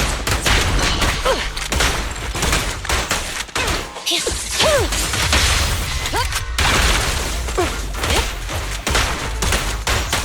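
Dense, sustained gunfire rattles almost without pause for ten seconds in the Zenless Zone Zero agent story for Qingyi, with heavy impacts and booms mixed into the barrage and brief voice bits poking through.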